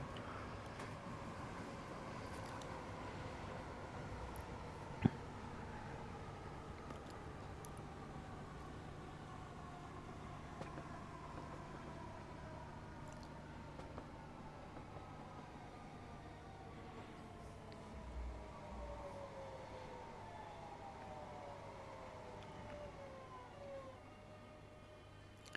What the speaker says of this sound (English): there went one of the other trains